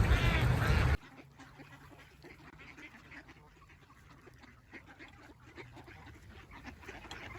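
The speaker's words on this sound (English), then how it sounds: "I'm going to feed the ducks a little more." Ducks being fed quack and squabble in a steady low chatter outdoors, following a brief loud burst at the start, with no talking.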